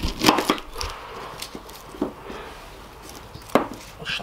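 A knife chops half an onion, skin still on, into smaller pieces on a board, with a handful of irregular, close, crisp cuts spread across a quiet background.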